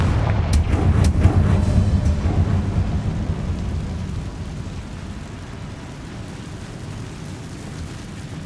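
A Confringo explosive spell cast in Hogwarts Legacy, heard as a few sharp cracks at the start followed by a deep booming rumble that slowly fades over several seconds.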